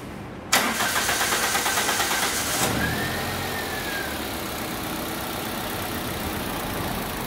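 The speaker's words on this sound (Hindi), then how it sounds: "सो गाड़ी स्टार्ट कर दे," A car engine in a workshop cranks with a rapid rhythmic starter whir for about two seconds, catches, and settles into a steady, moderately quiet idle.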